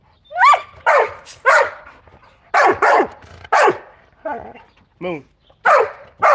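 Several loud, close dog barks and yelps come in irregular bursts, with a short spoken word between them.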